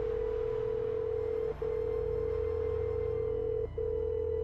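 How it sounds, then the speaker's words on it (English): In the Nancy Drew: Sea of Darkness game, a phone call rings as a steady electronic tone that pauses briefly twice, playing over a quiet low hum with no talking. "Better give Alex a call."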